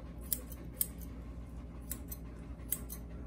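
Scissors snip a toy poodle puppy's fur during a first grooming, with a few sharp, quiet cuts spaced irregularly over a soft background hush.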